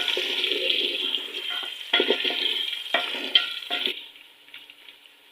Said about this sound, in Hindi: अब इसके बाद हम ऐड करेंगे इसमें लहसुन अदरक का पेस्ट। एक से 2 मिनट तक हम फ्राई करेंगे।